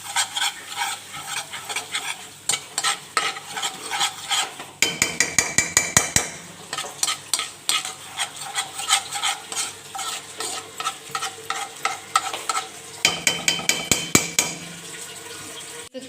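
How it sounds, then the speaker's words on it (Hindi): Flour stirred and roasting in hot desi ghee in a wok, with a steady sizzle cut by repeated scraping and clinking strokes from a spoon against the pan, alone without talk. "अब हम लोगों ने इस मैदे को अच्छे तरीके से भून लेना।"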